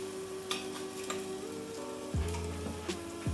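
Herbs and garlic sizzle in a hot pan as the first step of a margherita pizza sauce, a steady, close crackling fry with scattered pops and a few clanks of utensils against the pan.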